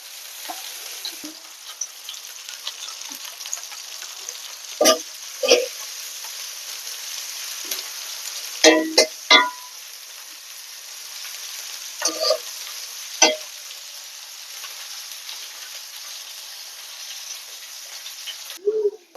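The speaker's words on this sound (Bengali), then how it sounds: "পেঁয়াজ ভাজা হয়ে গেল, মশলা দিয়ে দিব।" Onions fry in hot oil with a soft, continuous sizzle, broken by several sharp clinks and scrapes from a spatula against the pan.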